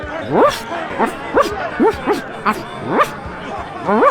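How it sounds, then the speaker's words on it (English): A cartoonish dog bark from The Secret of Monkey Island, a series of short yipping woofs repeating roughly every half second, fairly loud and close, with faint background chatter. "Woof, LeChuck."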